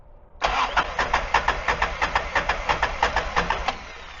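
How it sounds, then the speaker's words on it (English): A Kawasaki Mule 4010 utility vehicle engine cranks with a steady, rapid rhythm of loud starter-driven pulses close by for about three seconds, then smooths out as it catches and settles, with no talking. "So when cranking the engine, after a few turns, when the pressure is built up by the pump"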